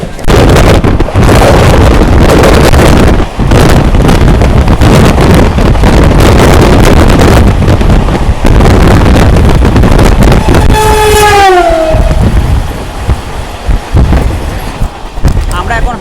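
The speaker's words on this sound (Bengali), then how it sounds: "ফাইনালি আমাদের ট্রেনটা স্পিড নেওয়া শুরু করে দিয়েছে" Barddhaman to Howrah express local train running at high speed, a loud continuous rumble with rhythmic clatter of wheels on rail joints, then a passing horn that sweeps downward near the end.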